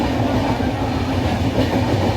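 A Kamrup Express passenger train running on rails between Howrah and NJP, heard from inside the carriage as a loud, continuous low rumble with steady wheel clatter throughout.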